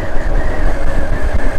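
A Honda Grom motorcycle engine roars close and loud during a ride, a rough pulsing drone that rises and falls slightly throughout.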